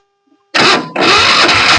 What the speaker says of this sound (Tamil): இப்போ நான் செல்ஃப் போட்டு காட்டுறேன் பாருங்கள்.